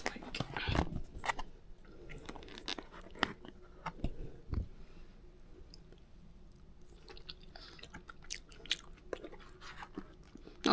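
Someone eating green curry in an airport capsule hotel cabin, with close, quiet chewing, occasional soft clicks of a utensil and wet mouth sounds in a calm room.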